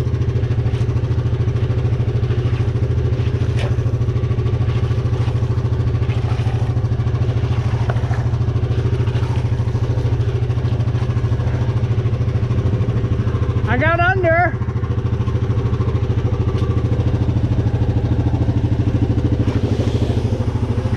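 An off-road vehicle engine runs close by at a steady, loud idle through a creek-crawling outing. It barely rises in pitch, with a brief squeal partway through and some clatter over the drone.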